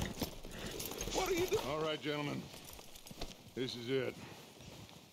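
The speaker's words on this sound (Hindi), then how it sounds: "इसी और ऊपर नहीं जा रहा मेरा घोड़ा।" Horse hooves clopping in the Red Dead Redemption video game, a soft steady gait running under continuous talk, with a spoken voice dominating most of the stretch.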